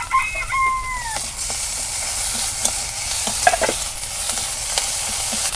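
Garlic paste and ginger stirred in a hot pan for a banana, potato and tilapia curry, with steady close sizzling and scraping stir strokes throughout, plus a few brief tonal chirps near the start.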